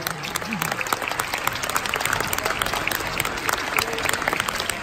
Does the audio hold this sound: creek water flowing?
no